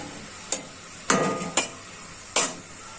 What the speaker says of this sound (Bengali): পেঁয়াজটা ভাজা হয়ে যাক।